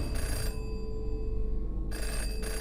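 A telephone rings in the adventure game Jenny LeClue: an electronic bell rings in a short burst, pauses for over a second, then rings again, steady and clear over a low background hum.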